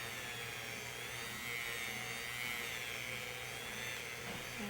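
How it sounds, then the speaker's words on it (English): A continuous high-pitched whine of a small drill boring into a bead, steady and close, with no pauses. "now I'm gonna drill, you know, the zombie bead here"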